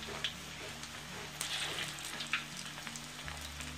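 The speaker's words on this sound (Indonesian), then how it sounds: "Kita goreng hingga dia habis teman-teman." Pork meatballs deep-fry in hot oil, a steady close bubbling sizzle with scattered crackles and pops and no talking.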